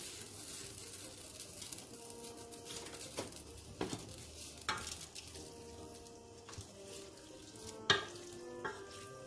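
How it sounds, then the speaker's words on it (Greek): Mussels sizzle in a pot as white wine goes in to deglaze, a soft continuous crackle and hiss broken by several sharp clinks and scrapes of stirring, no talk. "Τα σβήνουμε με το άσπρο κρασί."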